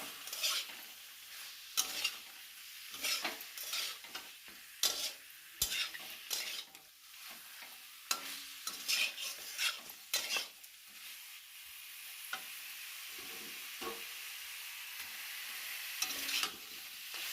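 Chicken stirred and frying in a home kitchen pan, a steady soft sizzle under repeated scraping clinks of a utensil against the pan, close and moderately quiet, with no voices.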